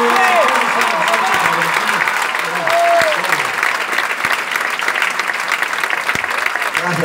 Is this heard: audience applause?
yes